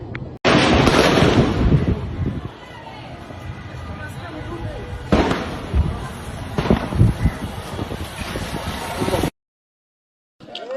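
Gunfire from armed forces during street protests in Tanzania, loud sharp cracks and bursts crowding the first seconds, then further volleys and reports amid crowd noise, wind buffeting and voices shouting.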